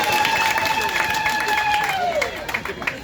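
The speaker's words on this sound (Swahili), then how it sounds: "pigeni makofi" A church congregation bursts into applause, a dense wash of clapping with crowd murmur, while a steady high whistle-like tone glides downward through the middle of the sound.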